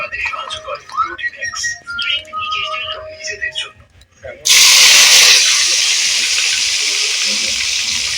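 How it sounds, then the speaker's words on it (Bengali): Stuffed fopa fritters dropped into hot oil, a sudden loud hiss and sizzle that stays steady and broadband after a stretch of quieter kitchen sounds beforehand. "ফোঁপা ভাজতে একটু টাইম লাগে বেশ অনেকক্ষণ টাইম লাগবে"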